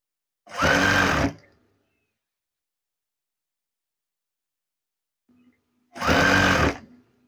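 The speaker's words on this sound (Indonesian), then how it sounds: "Sewing." A sewing machine stitching curtain fabric runs in two loud, steady bursts of about a second each, separated by a long quiet pause, with no talking.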